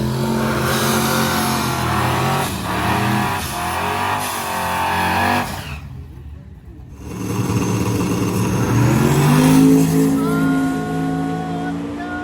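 Race cars launching in a drag race, engines revving hard and surging past, a brief near-silent gap, then another loud, close acceleration climbing in pitch.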